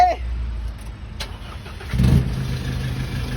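A pickup truck engine turns over and settles into a low, steady running rumble after a few seconds of quieter background noise.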